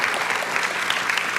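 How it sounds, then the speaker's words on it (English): Audience at a spring convocation applauding: a dense burst of steady hand clapping from many people, filling the moment without a break. "Let's give her a hand applause for hand clap for everyone that shared."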